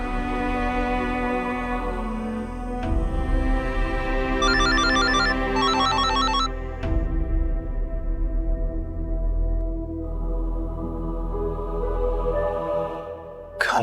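A phone ringtone plays as a repeating electronic melody, fairly loud and close, over a low background hum.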